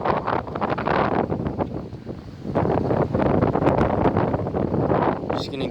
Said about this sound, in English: the wind is blowing really hard right now